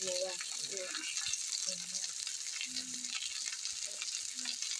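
Meat patties (kotlety) fry in a pan with a steady, crackling sizzle throughout, while low voices and a few soft kitchen sounds come through beneath it.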